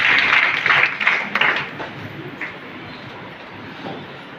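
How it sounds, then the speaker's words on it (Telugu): An audience at a one-year memorial meeting for a pastor gives a burst of clapping that rings out strongly for about two seconds, then thins and fades into a quieter hall ambience. "చప్పట్లు కొడుతూ"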